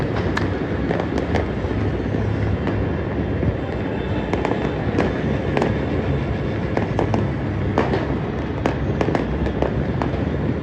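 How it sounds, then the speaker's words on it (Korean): Dense New Year fireworks bursting over Cebu, a continuous barrage of loud cracks and booms layered on a rumbling roar, with sharp individual bangs punctuating the din throughout. "올해 새해 맞이를 세부에서 했는데 폭죽이 어마무시하게 터져서 진짜 전쟁 난 줄 알았어요."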